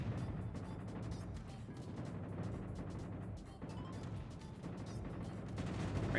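Bomb impacts and rumbling ship battle noise in World of Warships, a dense, continuous roar of explosions and gunfire with a brief dip midway, loud throughout.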